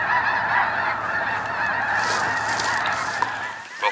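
A large flock of snow geese honks continuously in Arkansas, a dense chorus of overlapping calls from a distance, steady and loud with no talking.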